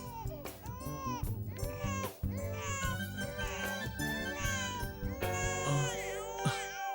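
An infant cries in wavering, rising and falling wails, the sobs layered over loud tonal music in a domestic drama scene.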